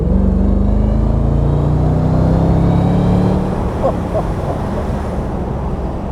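A 2007 Mercedes SLR McLaren Roadster with about 16,900 km accelerating hard, a deep, loud engine roar rising in pitch through a gear before easing off, heavy wind noise buffeting the open cabin.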